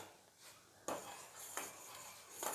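A spoon scraping and clinking against a pot of boiling oats porridge (oats kanji with papaya), three distinct metallic strokes spaced evenly apart, close and fairly quiet with no talking.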